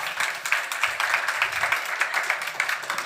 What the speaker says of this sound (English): It feels appropriate to clap.